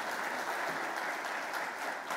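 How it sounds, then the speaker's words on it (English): Congregation applauding during a church worship service, a steady wash of clapping from many hands held at an even level for the whole stretch, moderately distant with no voices rising above it. "You can clap for him."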